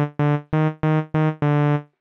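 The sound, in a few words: saw wave from Reason Grain sub-oscillator synthesizer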